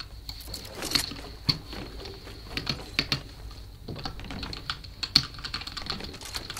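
A new computer keyboard clatters with quick, irregular bursts of keystrokes, close and moderately loud, played during a Fortnite game with no talking.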